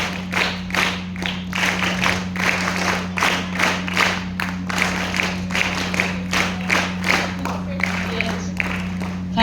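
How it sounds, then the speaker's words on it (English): Students in a school hall at a career counselling session on the fashion industry clap to welcome guests, a dense round of applause with rhythmic hand claps over a steady low electrical hum, fairly close and continuous. "So with big round of applause, students, please welcome them"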